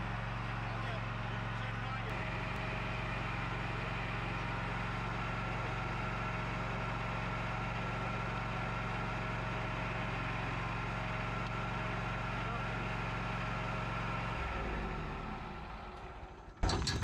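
A zero turn mower whose blades won't engage runs steadily with a low, continuous engine drone. Near the end the sound shifts and trails off, then a brief bump follows, and a person talks over it.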